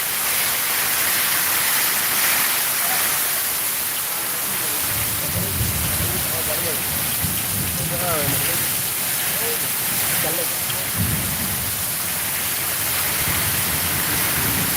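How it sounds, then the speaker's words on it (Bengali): Heavy night rain pours steadily in a thunderstorm in Sylhet after a hot spell, a dense unbroken roar with low rumbles of thunder rolling underneath and faint voices briefly audible. "প্রচুর বৃষ্টি আর ঝড় তুফান অনেক আসছে।"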